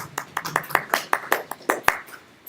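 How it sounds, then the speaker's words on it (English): Sparse, soft hand claps from a small group in a classroom, about a dozen distinct claps in a slow, uneven rhythm, quiet and polite with no talking over them. "Golf clap."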